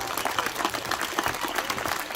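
A crowd claps steadily at a French schools and colleges championship event in 2022, a dense, even patter of many hands at moderate volume.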